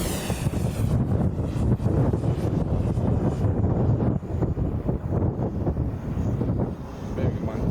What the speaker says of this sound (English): Bearing in mind it's fairly gusty as well